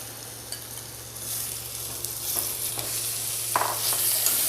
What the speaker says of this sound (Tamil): வெங்காயம் எல்லா மீன்லேயும் நல்லா ஈவனாக படுற மாதிரி கலரிக்கலாம்